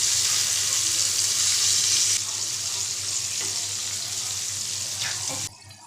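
Flour-coated chicken pieces frying in oil give a dense, steady sizzle close up, louder for the first two seconds and then slightly quieter, ending in a sudden drop, with no talking.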